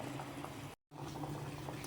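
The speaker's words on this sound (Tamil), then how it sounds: "சக்கரெல்லாம் மெல்ட் ஆகிட்டு கொதிக்க ஆரம்பிச்சிச்சு" Quiet, steady bubbling and popping of sugar syrup for gulab jamun boiling in a pan, with a short break of silence partway through.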